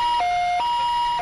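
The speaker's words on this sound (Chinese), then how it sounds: "救护车赶到现场" An ambulance siren responding to a five-year-old girl's fall from a second-floor balcony, wailing in a steady two-tone cycle that alternates high and low pitches, loud and close with no talk.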